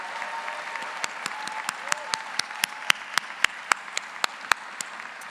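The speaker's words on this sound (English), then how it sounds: "Please join me in a round of applause for the MS graduates." An audience at a university commencement ceremony applauds the graduating MS class: steady crowd clapping with a run of sharp, evenly spaced claps standing out near the microphone.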